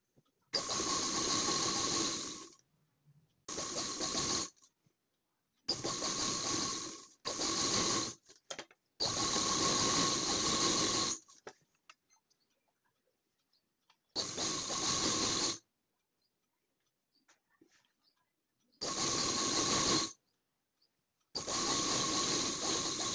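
A sewing machine runs in steady bursts while stitching a joint seam on both sides of a top garment, each loud whirring run lasting a second or several, separated by silent pauses.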